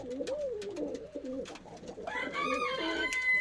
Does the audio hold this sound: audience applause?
no